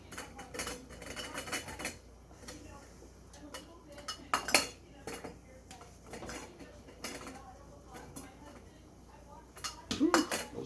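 Glass jars being filled with canned potatoes: scattered clinks and scraping of a utensil against glass and pots, irregular and fairly close, with a person talking in between.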